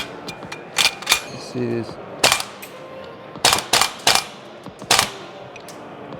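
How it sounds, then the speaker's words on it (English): An airsoft AK replica fires in scattered sharp cracks, single shots and short clustered bursts, loud and close rather than one unbroken dump; a voice speaks briefly between shots. "Okay, I'm gonna mag dump it."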